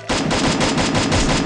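Automatic rifle fire in the mobile battle royale game Free Fire, a loud, close, sustained burst of rapid evenly spaced shots starting abruptly.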